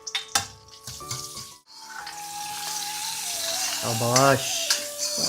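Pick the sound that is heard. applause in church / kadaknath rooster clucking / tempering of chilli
tempering of chilli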